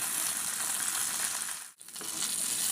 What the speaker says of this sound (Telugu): ఇదిగోండి పచ్చిమిరపకాయలు ఈ విధంగా వేగాలండి.